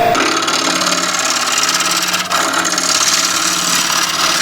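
Wood lathe spinning a wooden plate or dish while a gouge cuts across its top, a loud, steady scraping whir that runs unbroken for several seconds with no talking.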